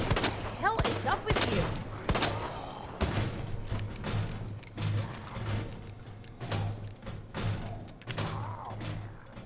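Rapid bursts of gunfire from a gun in Resident Evil 2, loud and repeated shots with thuds and game effects over a steady low hum throughout.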